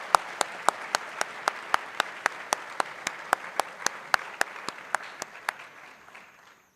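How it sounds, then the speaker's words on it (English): Clapping for school poetry finalists, a sparse, evenly spaced series of about twenty sharp claps that sounds like a small group or a single clapper rather than a crowd, fading slightly at the end. "Let's give them a round of applause."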